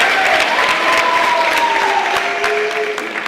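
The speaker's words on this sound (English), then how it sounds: "can you please give a round of applause for everybody else at Boys State?" Boys State delegates applaud in a convention hall, a loud, dense burst of clapping with some crowd noise and cheering mixed in, trailing off slightly at the end.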